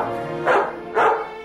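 A dog barking close and loud, two quick yapping barks about half a second apart, with nothing else around them.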